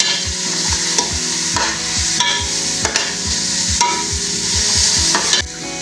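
Onion and garlic sautéing in a pan, stirred with a utensil that knocks and scrapes in a quick repeated rhythm over a loud, constant sizzle, close up with no talking.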